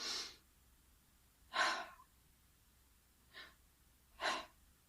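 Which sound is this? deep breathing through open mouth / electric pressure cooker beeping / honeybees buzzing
deep breathing through open mouth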